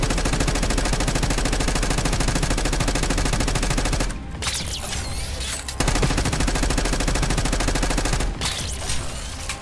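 Sustained rapid automatic gunfire from the Call of Duty: Black Ops 6 video game, loud and dense, with two brief gaps in the firing around the middle and near the end.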